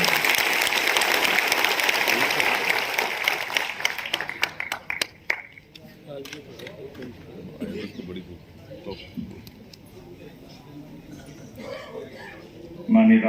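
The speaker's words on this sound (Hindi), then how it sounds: "एक बार व्यापारी वाली ताली बजाते हुए अच्छा लग" An audience at a large traders' conference in a Delhi exhibition hall claps together in steady applause for several seconds before it fades, followed by scattered noise and a speaker talking over a PA.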